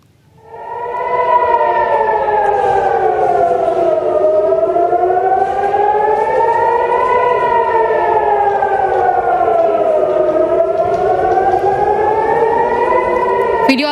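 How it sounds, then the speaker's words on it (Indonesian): A loud wailing air raid warning siren at Ben Gurion Airport, Israel, rises after a brief start and then slowly rises and falls in pitch, sustained and unbroken throughout. "suara sirine peringatan serangan udara terdengar di Bandara Ben Gurion, Israel"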